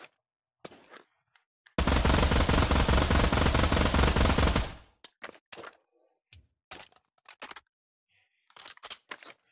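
An RPG-7 rocket launcher in the Pavlov VR game lets out a long, loud roaring blast lasting about three seconds, followed by a scatter of short, sharp clicks and knocks.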